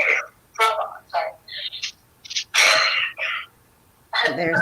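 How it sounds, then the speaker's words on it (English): Several short, sharp coughs and throat noises come in quick bursts, close and fairly loud, with brief pauses between them. "There's that cough."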